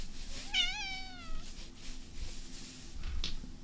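A cat gives a single drawn-out, falling meow close by, followed by quieter room noise and a brief faint squeak near the end.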